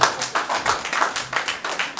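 An audience at an investment presentation claps in a bright, rhythmic pattern of distinct claps, moderately close, with no talk over it.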